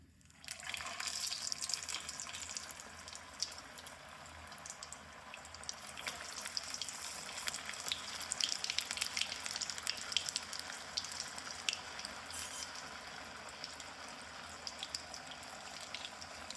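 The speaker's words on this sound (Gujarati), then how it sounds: "તો મિત્રો આપણે હવે આલુ ટિક્કી ફ્રાય કરીએ." Aloo tikki potato patties fry in hot oil in a village-style kitchen, a steady broadband sizzle with crackling bursts that runs continuously and fairly quietly, with no voices.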